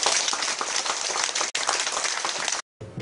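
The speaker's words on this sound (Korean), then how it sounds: "힘찬 자축의 박수를 부탁드립니다." Dense audience applause fills a welcome workshop for newly admitted social welfare students at Youngsan University's lifelong education college, steady many-handed clapping that runs loud and continuous before a brief silent gap and a final burst.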